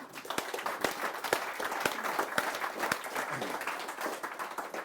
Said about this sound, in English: that's worthy of a round of applause